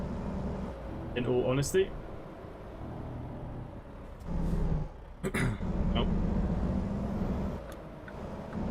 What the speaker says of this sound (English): Let me know if the truck's a bit loud for you guys.